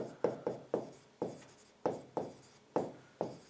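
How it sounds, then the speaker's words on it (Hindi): A teacher writes on a board during a lesson, making about nine close, crisp strokes in an uneven rhythm with short pauses between them, and no talking. "मैं लिख देता हूं, देखो।"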